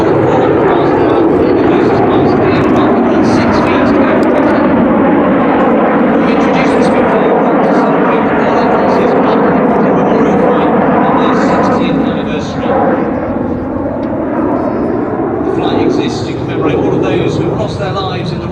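Red Arrows jets roar continuously and loudly through an aerobatic roll at about 400 miles an hour during the Flying Legends 2017 display, with a broad sustained engine rush that shifts slowly in pitch under a commentator's voice.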